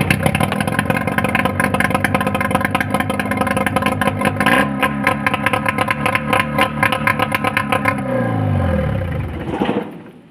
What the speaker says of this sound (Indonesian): Oke, kita akan start mesinnya